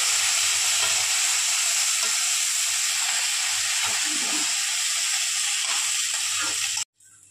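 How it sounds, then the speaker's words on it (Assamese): Rice frying in a pan with salt and turmeric, a steady close sizzling hiss with faint stirring scrapes, ending abruptly. "চাউলখিনি দি পিনে ভাজি থাকিব লাগে"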